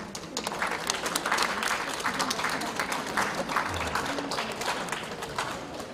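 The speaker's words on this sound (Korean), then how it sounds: "안수정 안수정 여러분 큰 박수 한번 부탁합니다" A crowd claps steadily for several seconds, a dense, continuous patter of applause with faint voices mixed underneath.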